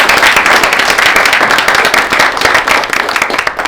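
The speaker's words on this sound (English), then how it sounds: "let's give a huge round of applause for all of the participating teams" A hackathon crowd gives the competing teams a loud, dense round of applause up close. The clapping stays strong and continuous and eases off slightly near the end.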